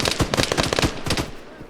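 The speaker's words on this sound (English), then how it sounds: "AK fire." AK rifle fire in the video game ArmA 3 Apex cracks out in a rapid burst of automatic shots that then trails off into a rumbling echo.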